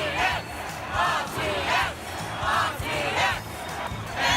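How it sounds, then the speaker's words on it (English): Crowd waiting in line at a convention cheering in rhythmic bursts, loud group shouts rising and falling about every three-quarters of a second, close and energetic. "We even did some awesome cheering"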